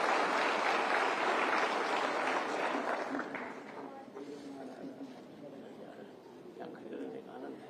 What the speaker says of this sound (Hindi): कृपया जोरदार तालियों के साथ इस शुभ पल का भी आगमन करें